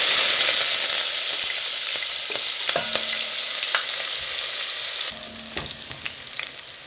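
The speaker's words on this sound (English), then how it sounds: "Our cooking oil is hot, so I'm going to be adding our onions." Onions dropped into hot cooking oil hiss loudly in a steady close sizzle, with occasional utensil taps, the frying settling to a quieter crackle near the end.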